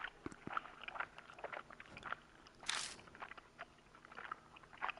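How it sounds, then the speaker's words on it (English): Faint, wet chewing of gum over a phone line in the horror game Spirit Hunter: Death Mark, irregular smacking and crunchy clicks with a brief hiss, quiet and muffled with no talk. "I hear a noise like someone chewing gum from the other end of the phone."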